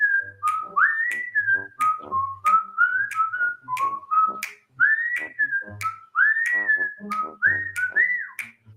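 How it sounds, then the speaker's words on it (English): A man stands outside a door whistling a wavering, tuneful melody in short repeated phrases, clear and fairly close, with brief pauses between notes and no talking. "I hear the guy standing outside my door start to whistle"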